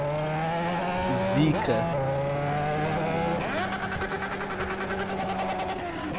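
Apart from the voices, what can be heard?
Honda Hornet motorcycle mod hitting rev limiter in GTA video game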